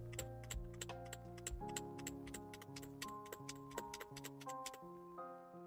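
An Ajazz AKS068 "Alice" mechanical keyboard is typed on up close in a quiet room, producing a quick, irregular run of sharp clacky keystrokes with no talking.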